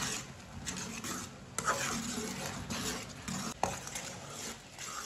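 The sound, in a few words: mango chutney with turmeric cooking and stirred in pan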